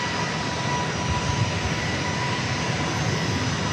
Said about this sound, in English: That drone should not be in the way of this aircraft.